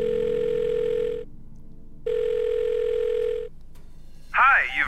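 A phone in The Blackwell Deception video game gives two long steady ringback tones with a pause between, then a short burst of voice as the line picks up.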